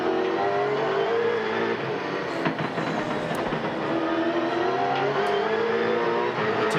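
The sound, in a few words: Holden Commodore V8 Supercar engine, onboard Castrol race car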